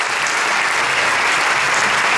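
Steady, dense applause from a concert audience at a tribute show in Val di Nizza, a continuous wash of many hands clapping at an even level throughout.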